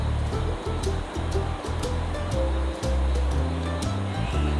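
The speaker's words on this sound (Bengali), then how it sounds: "এবার এখানে আমি চিংড়ি মাছগুলো দিয়ে দিচ্ছি।" Shrimp fry with onion in hot oil, giving a loud, continuous, close-up sizzle with no talk over it.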